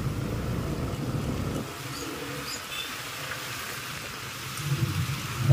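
Rain falls steadily in a broad, even hiss, fairly close and continuous, with a heavier patch at the start and a slight build near the end, and no talk.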